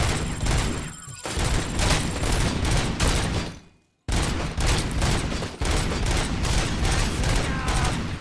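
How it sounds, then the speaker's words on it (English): Gunfire in the Robocop: Rogue City video game: dense, loud, continuous bursts of shots and impacts, broken by one brief drop-out midway, with no talk over it. "Oh, I can shoot out the fucking lights."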